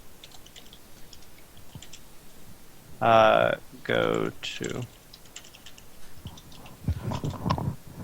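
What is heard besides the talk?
loud computer keyboard typing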